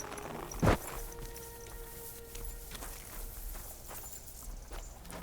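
A horse's hooves clip-clop at a walking pace up stairs in the video game Kingdom Come: Deliverance II, fairly quiet, with one louder thump near the start over low ambient noise.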